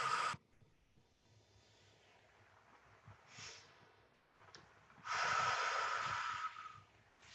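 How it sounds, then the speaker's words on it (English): Forceful exhales during a jellyfish breathing exercise: a short hard blast of breath, a softer puff, then a long loud pushed exhale of several seconds, close and breathy with quiet gaps between. "I'm going to exhale like I'm squeezing a grapefruit and I'm squeezing all the juice out of it"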